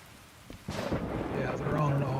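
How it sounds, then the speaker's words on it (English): Rain and a rumble of thunder in the Derail Valley train simulator game, with steady rainfall and a deep roll of thunder building midway, moderately loud. "And it's raining."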